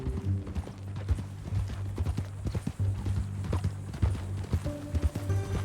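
Horse hooves clip-clop in Red Dead Redemption 2, a close, brisk run of hollow knocks in an uneven walking rhythm over a low hum.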